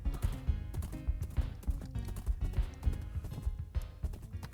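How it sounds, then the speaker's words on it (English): Horse galloping in Wynncraft, a Minecraft-based game, with a steady rapid clip-clop of hooves over constant game music, close and fairly loud throughout. "I don't need to do that, I can just ride a horse."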